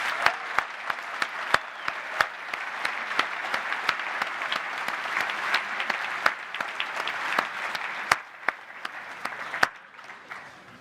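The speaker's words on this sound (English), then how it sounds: "please do give everyone another round of applause for that" A large crowd applauds at a Formula Student awards ceremony with sustained, even clapping that fills the hall for about eleven seconds. A few sharp, louder claps punctuate the crowd, and the sound tapers off near the end.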